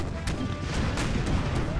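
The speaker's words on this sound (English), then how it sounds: "That's a lot of artillery fire, though." Artillery fire from a Napoleonic-era battle in Empire: Total War's Brothers vs. Brothers mod, a steady wash of battlefield noise punctuated by several sharp booming shots at irregular intervals.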